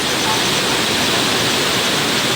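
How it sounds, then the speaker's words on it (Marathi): After heavy rain, the Godavari River's floodwater pours over an old bridge at Dhalegaon in Pathri, Parbhani, making a loud, steady, unbroken rushing roar with no voices. "ह्या पुलावरून पाणी जात आहे बघा"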